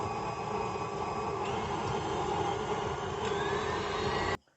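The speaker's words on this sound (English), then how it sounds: "So, going to get that started in whisking." An electric mixer whisks cookie dough ingredients in a steady, loud whirring drone that runs unbroken, then cuts off abruptly near the end.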